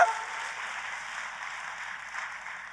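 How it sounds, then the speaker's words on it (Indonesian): A church congregation applauds in a smooth, sustained wash of clapping that holds at a moderate level, sounding somewhat distant and blended. "Kasih tepuk tangan buat Tuhan kita,"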